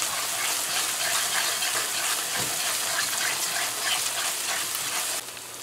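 Tomato paste fries in a pot for Guyanese stewed cabbage, giving a continuous, even sizzle that drops off slightly at the very end.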